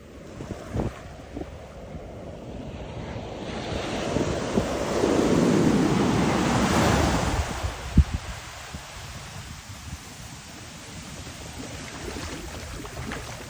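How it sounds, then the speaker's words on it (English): Ocean waves break and wash up the shoreline at Kaanapali Beach in Hawaii near the Whalers Resort, a broad rushing surge swelling midway and then receding, with wind buffeting the microphone and no talk. "I really like the way that the waves break right here on the shoreline, and the way they come all the way up"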